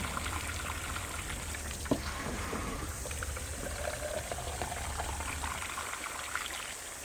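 Water poured and spilled from jugs while containers are rinsed out on gravel during a pond weed and algae treatment, heard as a steady close splashing and pouring wash that runs without a break.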